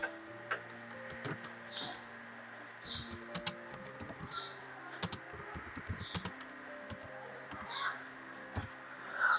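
Keys on a computer keyboard click in short, irregular bursts while a C program is entered, fairly quiet over a faint steady background hum.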